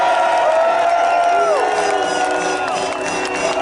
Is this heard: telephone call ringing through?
no